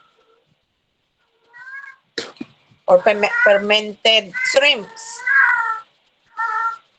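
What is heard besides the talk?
cat meowing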